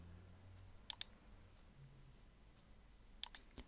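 A computer mouse clicked in quick double pairs, two sharp close clicks near the start and two more near the end, with quiet room hiss between.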